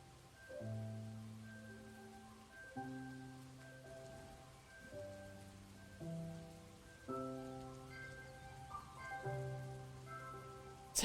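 Steady rain patters softly beneath sustained, gentle musical tones that change in slow chords, calm and continuous throughout.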